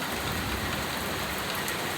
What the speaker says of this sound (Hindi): एकदम से ही बारिश स्टार्ट हो गई है